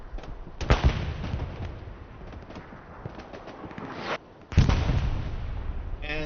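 Panzer IV tank cannon fire in the World War II game Hell Let Loose: two heavy, booming shots a few seconds apart over a low rumbling background, the second followed by a sustained roar.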